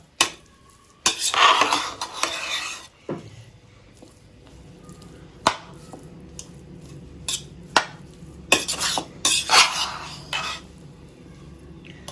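Prawn pulao is stirred in a pot with a series of scraping, clattering strokes of a spoon against the metal, some louder bursts and quieter stretches between them.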